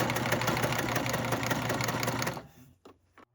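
Sewing machine stitching the top edge of a pair of pants, a steady close, loud mechanical whir with a rapid needle rhythm that runs for over two seconds and then winds down and stops.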